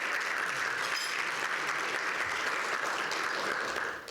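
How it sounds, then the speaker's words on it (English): An audience at a forum for future community leaders applauds the moderator and panelists, giving dense, steady clapping that holds at full strength throughout and eases slightly only at the very end. "A round of applause for our amazing moderator and our panelists."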